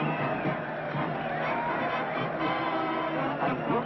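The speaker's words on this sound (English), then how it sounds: "And look at that mob waving and cheering." A large, dense crowd in Hawaii cheers and waves for long-lost castaways rescued in 1978, a steady roar of shouting voices and babble filling the whole stretch.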